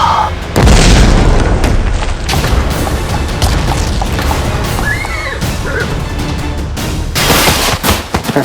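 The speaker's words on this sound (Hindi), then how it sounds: "महाराज, विस्फोट हुआ है" A loud bomb blast with booming, crashing debris and rumbling that fills the scene, followed by continued crackling and smaller bursts.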